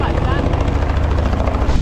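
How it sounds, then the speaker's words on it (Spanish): A loud helicopter drones overhead at Christ the Redeemer on Corcovado, Brazil, with steady rotor chop that fills the whole stretch, and a voice talks beneath the roar. "es que estos helicópteros no dejan oír"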